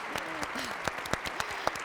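A short burst of sparse clapping from an audience at a university talk with Irene Vallejo, a few distinct claps under a speaking voice.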